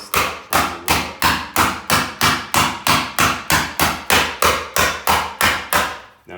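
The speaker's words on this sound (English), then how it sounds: "using the round part of this ball peen" A ball peen hammer pounds a sheet-metal body panel for a 1957 Jeep Willys laid over a log, about sixteen evenly spaced, sharp metallic blows in a steady fast rhythm, loud and close, with no talking.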